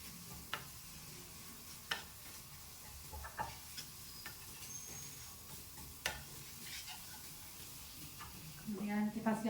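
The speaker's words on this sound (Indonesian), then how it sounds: "Kita tumis sampai harum." Ground spice paste sautés in a pan for chicken soup, giving a soft, low sizzle with scattered clicks and scrapes of stirring, quiet and close, with a louder burst of clatter near the end.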